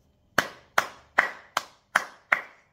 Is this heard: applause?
yes